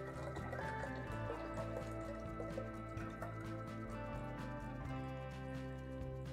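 Thick atol shuco, a Salvadoran corn drink, poured through a kitchen strainer, giving a steady close liquid stream with soft drips running under a continuous low background hum, no voices.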